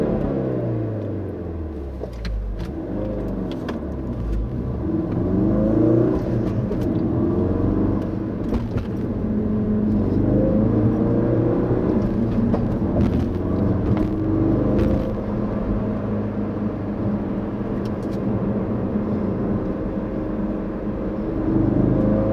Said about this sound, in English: and that starts the engine back up